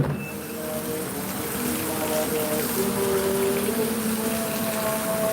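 Steady rain falls outdoors in a continuous patter with faint tonal background sounds woven through, heard at an even level without clear speech.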